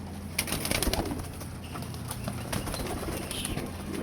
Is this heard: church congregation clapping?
no